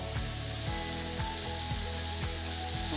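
Wine poured over mushrooms and shallot seasoned with Worcestershire, frying in a pan for beef stew, gives a steady, bright sizzle throughout, close and even, with no voices.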